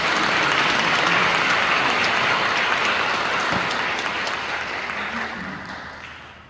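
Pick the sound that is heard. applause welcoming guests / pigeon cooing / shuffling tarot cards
applause welcoming guests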